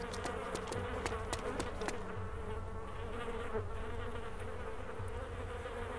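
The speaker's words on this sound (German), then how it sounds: "dieses Gesumme, das ihr gerade hört, das sind Fliegen" Flies buzz around corpses in the video game DayZ, a dense, steady insect drone close by that lasts the whole stretch, with several sharp clicks early on and no voices.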